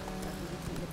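Horse hooves clip-clop in The Witcher 3, a quiet run of soft, regular hoof strikes over a low background hum.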